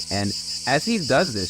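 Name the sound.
cicadas buzzing in a forest, TV show scene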